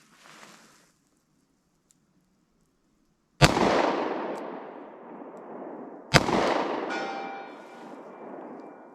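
Pocket pistol fired outdoors with Fiocchi Defense Dynamics ammunition. Two sharp, loud gunshots a few seconds apart, each followed by a long echoing decay, with nobody talking.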